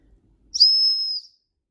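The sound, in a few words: whistle built into tactical pen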